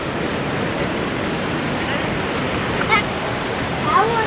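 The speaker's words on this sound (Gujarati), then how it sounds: "તો અહીંયા છે સરસ્વતી માં અને આ છે સરસ્વતી નદી" The Saraswati river runs at its source near Mana village, giving a steady, broadband rush of flowing water that stays loud and continuous throughout, with no talk over it.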